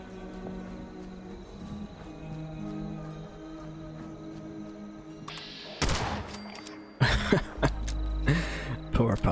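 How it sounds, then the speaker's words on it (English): Fallout 76 game gunfire in a small town. A quiet, humming stretch with faint tones gives way to sharp bursts of shots and rapid volleys in the second half, fairly close and loud. "Well, I hear lots of gunfire."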